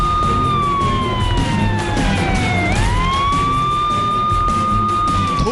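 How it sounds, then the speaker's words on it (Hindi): An ambulance siren wails continuously in city traffic, its loud, sweeping tone dipping and rising over a dense rumble of engines, steady and close throughout with no talking. "सायरन बजता रहता है, मरीज को ले जा रही एम्बुलेंस ट्रैफिक से जूझती रहती है"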